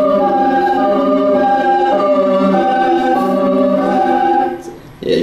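Synthesized siren tone moved through a simulated room space, a sustained harmonic wail with slowly shifting pitch from Doppler motion, loud and steady before fading away near the end.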